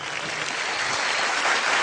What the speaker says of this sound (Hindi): एक बार मुन्नी के लिए जोरदार तालियां।